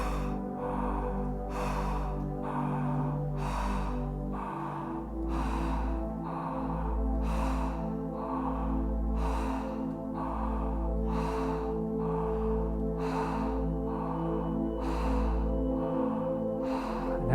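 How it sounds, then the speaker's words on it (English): Open-mouthed breaths drawn from the back of the throat during a guided breathing seminar, a steady rhythm of about a dozen raspy, close airy inhales and exhales over a low background hum, with no talking. "breathing firstly from the back of the throat with the mouth open like this"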